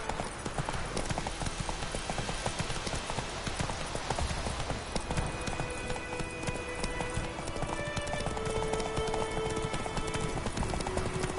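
Roach the horse runs in The Witcher 3, hooves clopping in a quick, steady rhythm throughout with a brief whinny, mixed with game music and ambience.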